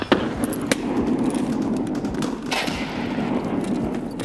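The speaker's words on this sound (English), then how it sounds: "that's why I'm throwing even more nades" Grenade blasts and gunfire ring out in the Escape from Tarkov shooter game. Several sharp bangs, the loudest near the start and around the middle, sit over a steady rumbling battle background with no speech.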